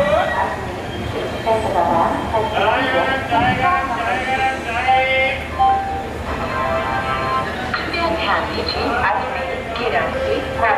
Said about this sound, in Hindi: यह ट्रेन प्लेटफार्म नंबर तीन पर आई है